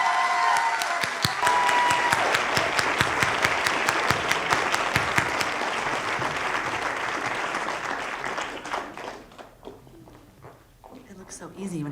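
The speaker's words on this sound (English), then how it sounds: "give a warm round of applause for your next storyteller, Angela Smith" A storytelling-show audience gives a warm round of clapping for the next storyteller, loud and dense at first, then thinning and fading out after about nine seconds as the room settles.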